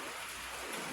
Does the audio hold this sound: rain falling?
yes